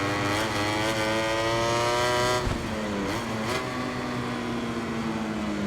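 An Aprilia racing motorcycle engine in the MotoGP 21 game on Xbox Series X screams at high revs, then drops and climbs again with gear shifts in a loud, continuous racing whine.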